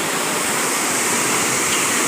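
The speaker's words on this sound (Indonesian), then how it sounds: "Ini adalah air terjun yang viral di TikTok itu ya." Viral waterfall at Bird Paradise, Singapore, roaring steadily as a dense, loud wash of falling water with no other sounds over it.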